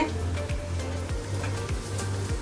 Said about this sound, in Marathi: मी आता दोन मिरच्या कापलेल्या टाकते